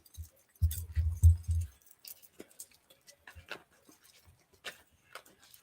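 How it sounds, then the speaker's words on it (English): A tarot card deck is shuffled up close in a series of loud riffling bursts, followed by lighter scattered clicks and taps of the cards. "just want to make sure I get it good and shuffled."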